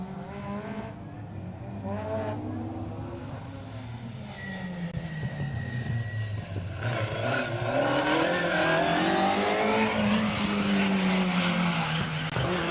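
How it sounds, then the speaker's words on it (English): A Peugeot 205 rally car runs through a stage of the 2023 Rali Menai Stages, its engine revving up and down through gear changes and growing louder as it nears, with no talk. "Andy Evans and Nev Bowles in their Peugeot 205"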